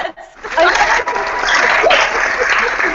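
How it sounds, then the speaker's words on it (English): Applause sound effect played at a virtual Halloween party, a sustained burst of clapping and cheering lasting nearly the whole clip with voices mixed in. "Somebody do the applause button at that point"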